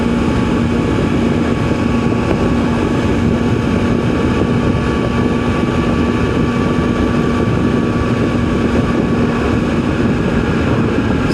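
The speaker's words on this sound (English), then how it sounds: "We're riding the Kawasaki Versys 1000 today. Big old comfortable inline 4-cylinder." A Kawasaki Versys 1000 inline four-cylinder motorcycle cruising along a country road, its engine drone steady and loud, heavily buried under constant rushing wind buffeting the microphone.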